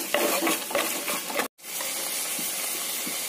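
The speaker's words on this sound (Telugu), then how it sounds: "ఇప్పుడు దీన్ని బాగా కలుపుకోవాలి." A spoon scrapes and stirs soaked chana dal in a hot pan for rice-rava undrallu, with steady sizzling throughout, a brief cut in the middle, and close, even stirring strokes.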